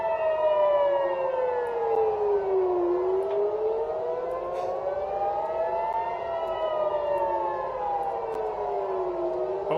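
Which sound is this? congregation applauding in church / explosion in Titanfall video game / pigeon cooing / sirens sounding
sirens sounding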